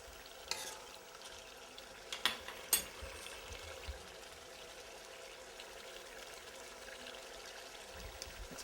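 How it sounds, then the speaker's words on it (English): A quiet, steady sizzle of cut-up potatoes frying in a pan, with a few faint scrapes and clicks scattered through. "you get a little bit of a frying going on"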